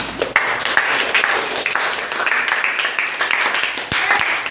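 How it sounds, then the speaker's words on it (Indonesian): A group of participants in a small coaching session claps together in a room, a brisk, close round of hand claps with a few sharper individual claps standing out. "Tepuk tangan buat kalian semua"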